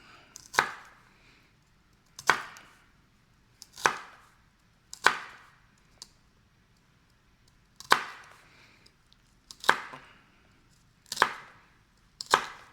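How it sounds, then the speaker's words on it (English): A kitchen knife slices food diagonally on the bias against a cutting board, giving eight crisp, separate chops at an uneven, unhurried pace, close and clear in a quiet room. "we're going to cut it 1/4 inch on the bias, which just means diagonally."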